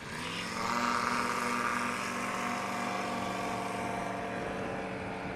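A small STOL airplane taking off at a short-takeoff competition in Pinedale, Wyoming: a steady propeller-engine roar that swells slightly early on, then holds loud and continuous throughout, with no talk.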